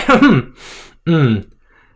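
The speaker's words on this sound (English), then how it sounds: "you hear the sound of a woman clearing her throat behind you" A woman clears her throat twice, close by, with a short pause between the two rough, voiced bursts.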